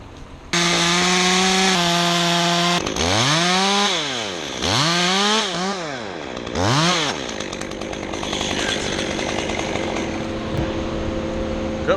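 Chainsaw cutting the hinge while felling a storm-damaged tree, loud and close, with a steady high idle whine at first, then a run of repeated revving surges as the chain bites, settling into a rough, sustained cut.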